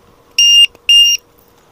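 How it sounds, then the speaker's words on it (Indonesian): Two sharp electronic beeps from a battery voltage alarm buzzer checker plugged into an RC trainer plane's battery, each about a quarter second long with a short gap between, loud and close over a quiet background. "Kita ambil dulu baterainya dan alarm buzzer checkernya ini."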